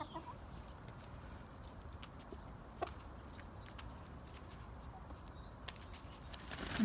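Backyard Rhode Island Red chickens cluck softly and intermittently in the distance during evening free-ranging, faint scattered calls over steady outdoor background noise.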